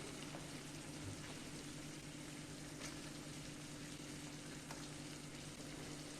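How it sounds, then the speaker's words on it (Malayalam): Chicken sizzling gently in a pan over a low flame for a fajita snack, a steady soft frying hiss with a low hum underneath and no talk. "ഇപ്പോൾ ചിക്കൻ കുക്കായിട്ടുണ്ട്. ഇത് ഡ്രൈ ആവാതിരിക്കാൻ വേണ്ടിയിട്ടാണ് ലോ ഫ്ലെയിമിലിട്ട് കുക്ക് ചെയ്യുന്നത്"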